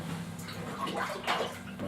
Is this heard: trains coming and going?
no